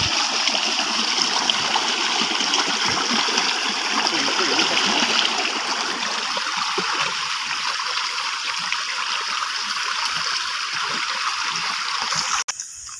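A stream flows at night along a dark countryside path. The rushing, trickling water is steady and close, and a sharp click comes near the end.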